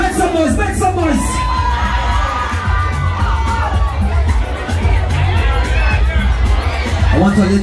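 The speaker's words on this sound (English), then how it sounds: "I want all you to cheer this fellas on for me." A crowd cheers and shouts at a weight lifting competition during a regatta in Carriacou, a loud, close wall of whoops, children's yells and babble that swells and holds throughout, with a voice calling out now and then.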